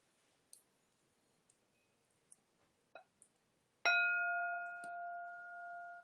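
After a few faint scattered clicks, a single bell is struck loudly and rings out with a long, clear, sustained tone that slowly fades.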